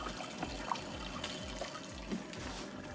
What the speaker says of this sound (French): pendant que l'eau continue à se vider